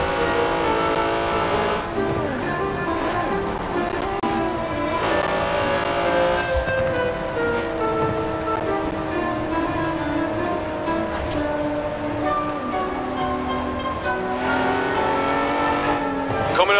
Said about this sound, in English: That's a 90-year-old racing car. It's gonna take some handling.